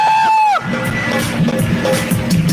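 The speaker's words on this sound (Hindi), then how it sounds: "इसलिए जोरदार तालियों के साथ" A congregation at a Hindi Christian church service bursts into loud cheering and applause after a brief tonal whine, a close, lively crowd roar with shouts and whoops sustained to the end.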